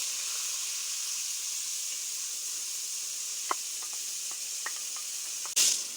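Steady, loud sizzling of chopped onions frying in a pan for keema, with a few light pops and clicks and a sharp burst of hiss at the end.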